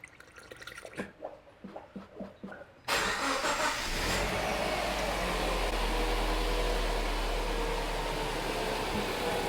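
A Subaru Impreza engine cranks and catches after a few seconds of quiet clinking, then settles into a steady, loud idle that keeps running, after a radiator replacement and coolant flush.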